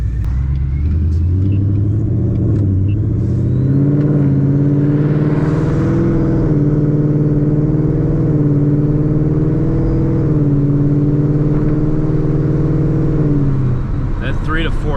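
Ford truck with a 10R80 transmission accelerating, a loud close engine rumble rising in pitch with a smooth gear shift partway through, then rising again, heard from inside the cab.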